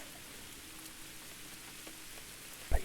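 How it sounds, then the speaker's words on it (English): Rain falls outside during a long drive, a soft, steady hiss of drops under a low rumble, with a single brief knock near the end. "I'm glad it's raining outside. I like the sound of rain."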